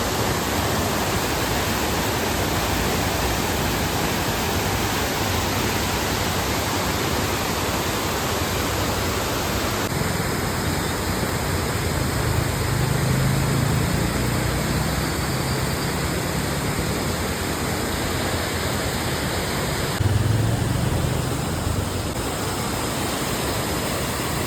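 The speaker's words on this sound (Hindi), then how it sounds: "देखिए ये कुछ इस प्रकार से यहाँ पे एक झरना है।" Waterfall beside the mountain road to Kainchi Dham, a loud, continuous broadband rush of falling water that holds steady throughout with no voices.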